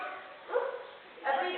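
Person imitating a big dog's bark at a Flamingo Land show, two short voiced woofs about half a second apart, fairly faint and muffled.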